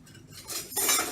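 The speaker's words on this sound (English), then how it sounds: "I'm going to mix the sauce along with the rice." A spoon stirs steamed rice and tomato sauce together in a bowl, giving brief scraping and clinking strokes of utensil on the dish, close and moderately loud, with no voices.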